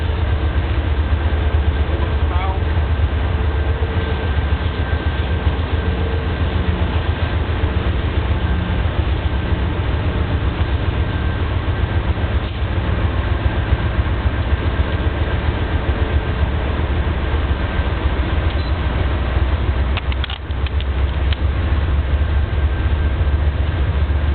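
Auxiliary A/C unit running during a test on a hotshot truck, a loud steady low droning hum with constant fan rush throughout, unchanging and close, with no voices.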